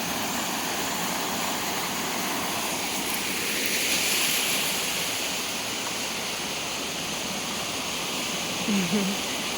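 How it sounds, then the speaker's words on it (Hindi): Small waterfall near a nature homestay resort with villages around, heard as a steady broadband rush of falling water throughout, fairly loud and even, with no talk over it. "ये छोटा सा एक वाटरफॉल काइंड ऑफ है।"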